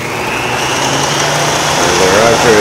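Woodworking router running at 10,000 RPM, geared down to drive an axial flux alternator, giving a steady loud motor whine with a rising tone near the end.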